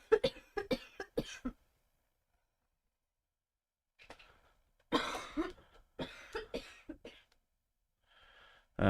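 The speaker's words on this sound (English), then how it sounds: "Oh, I've got a cough." Several sharp coughs in a quick burst, then a pause before another cluster of coughing and throat-clearing sounds, fairly close and loud.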